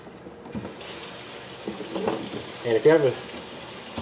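Hot water runs steadily from a sink tap, a broad, close rushing hiss that starts suddenly and continues throughout while a person talks over it.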